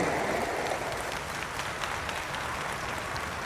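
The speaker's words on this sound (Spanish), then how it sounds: "aplauden." A standing audience at a formal public ceremony applauds with dense, steady clapping that holds at an even level throughout.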